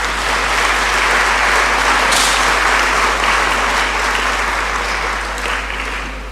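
Sustained audience applause fills a university lecture hall at an inaugural lecture in Ghana, a dense, even wash of clapping that holds steady and slowly fades at the end.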